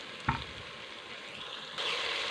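Onions frying in a pot with garam masala added, giving a steady soft sizzle with a brief stir or clatter near the start and the frying growing slightly louder toward the end.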